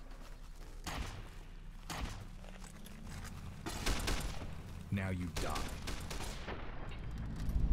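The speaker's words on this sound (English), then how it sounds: "I can hear firing up ahead" Bursts of gunfire crackle through a busy game soundscape in Fallout: New California, with heavy thuds, explosions and a voice speaking over the shooting.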